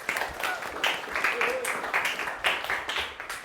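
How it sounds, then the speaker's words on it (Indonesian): Classroom students clapping for a presenting group during a civics lesson, a steady patter of applause with brighter bursts throughout, moderately loud and close. "Silakan tepuk tangan untuk kelompok 1"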